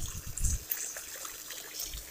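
A pool pump pushes water out of a backyard swimming pool being drained for winter closing, producing a steady trickling, splashing flow with a low rumble, moderately quiet and without voices.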